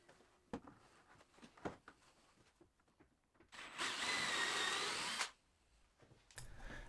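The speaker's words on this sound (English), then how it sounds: "It's then a really simple job to drill through the rail using the pre-drilled barrier holes as your guide." A power drill bores through a wooden bed rail of a DIY toddler bed, guided by pre-drilled barrier holes. One loud, close, sustained whine lasts under two seconds, with scattered knocks and clatter before and after.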